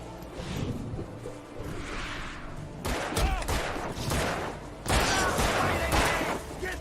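Gunfire in the video game Alan Wake comes as rapid, dense bursts of shots with whooshes and impacts over a continuous game soundscape, loud and busy throughout.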